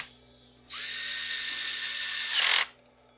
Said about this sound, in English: Our starter mechanism gets bolted down.